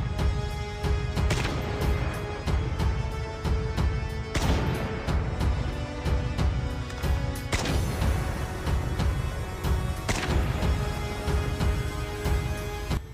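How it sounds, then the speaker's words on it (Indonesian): Single shots from an SKS marksman rifle in Call of Duty Mobile battle royale ring out one at a time, each a sharp, loud crack with a lingering tail, spaced irregularly about every one to three seconds. "senjata jenis Marksman SKS ini, sejatinya, hanya mampu menembakkan, atau keluarkan peluru, satu persatu"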